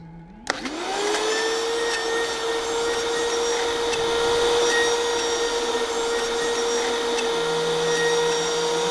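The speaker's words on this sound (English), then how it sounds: "So we're gonna go ahead and put in our nuts and crush those guys up." A food processor crushes nuts for a vegan chocolate brownie mixture, starting with a sharp whine that rises into a loud, steady motor roar and continues unbroken for several seconds with no talk.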